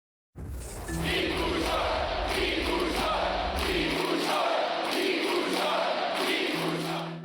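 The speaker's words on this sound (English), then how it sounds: "Thousands gathered in the heart of Bucharest late last night, cheering on its mayor becoming Romania's next president." A huge crowd in central Bucharest cheers late at night as the city's mayor wins Romania's presidential election. The roar is sustained and dense, with chant-like tones rising and falling and no break across the stretch.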